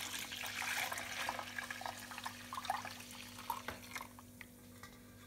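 About 2.5 litres of water is poured onto blended oranges, a quiet splashing and trickling that is strongest at first, then thins to softer gurgles and drips.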